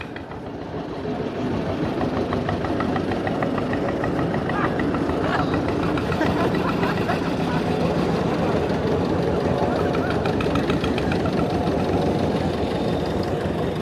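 A vintage Lanz Bulldog tractor engine chugs steadily with a rapid, rhythmic thumping, loud and close throughout, at a vintage vehicle meet in Luckau, with faint voices mixed into the background.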